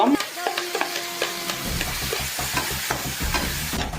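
A paneer and curd mixture, with corn and ginger garlic paste, fries in a pan while a spoon stirs it in quick, rhythmic scraping strokes that grow busier after the first second and a half.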